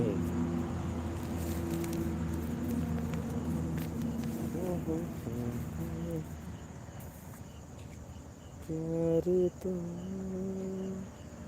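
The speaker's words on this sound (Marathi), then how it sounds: "रात रातकिड्यांचा आवाज येतोय काय" Crickets chirp in a steady, high, continuous trill through the night air, with other low murmuring sounds rising and fading underneath.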